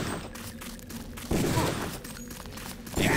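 Gunfire in the Deus Ex video game while the player runs, heavy bursts of shots over a dense, noisy game soundscape, loud and close.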